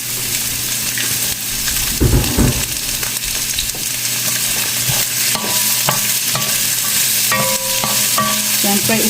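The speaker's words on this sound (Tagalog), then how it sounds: "Siyempre, saute lang natin itong onion." Chopped onion sautéing in olive oil in a frying pan, a steady close sizzle with scraping stirs and light clinks of a utensil against the pan throughout.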